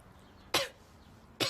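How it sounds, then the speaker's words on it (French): Two short, sharp coughs, close and fairly loud, separated by a quiet pause. "J'ai juste toussé, là, désolée."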